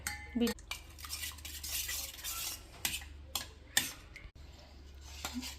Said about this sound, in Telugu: ఈ గడ్డ పెరుగుని బీట్ చేయాలి బాగా.